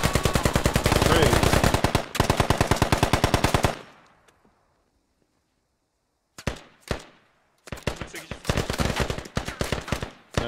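Automatic gunfire in the video game Squad, shots fired through windows during an urban assault: a long sustained burst of rapid rounds, a pause of near silence, then several more bursts and single shots, loud and close.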